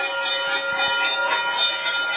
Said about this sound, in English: the train is approaching the east near sensor